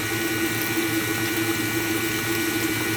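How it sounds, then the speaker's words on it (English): A steady, close rush of buttermilk pouring and splashing as it is drained off while making homemade butter, continuous and fairly loud with no voices. "I'll pour the buttermilk off."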